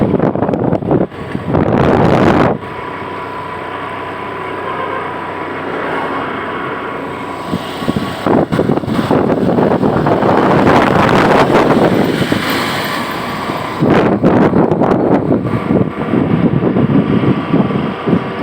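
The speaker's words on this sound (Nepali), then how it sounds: "माथि चाहिँ चिसो हावा आउँछ" Cold wind on a hilltop buffeting the microphone in loud, uneven gusts that rise and fall, with roaring bursts and brief lulls between them.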